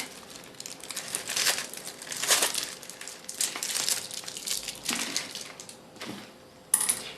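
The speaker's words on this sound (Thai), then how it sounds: "ดึงเทปออกนะคะ" Tape is peeled off a square box woven from plastic strapping, giving bursts of crinkling and ripping with small plasticky clicks, close and fairly quiet, and no talk.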